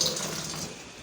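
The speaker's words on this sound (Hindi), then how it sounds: "इसको ज़रा ठंडा करेंगे पानी गिरा के" Water pours steadily into a cooking pan to cool down an aloo palak preparation, a continuous close splashing rush with no talk over it.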